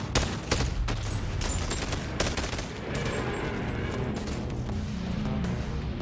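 Enemies firing guns in the VR shooter Bonelab, a rapid burst of loud close gunshots at the start followed by sustained volleys of shots and echoing booms.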